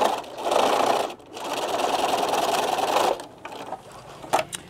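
A sewing machine back stitches fabric for a Japanese knot bag with two bursts of rapid whirring stitching, a brief pause between them, then quieter handling clicks afterward.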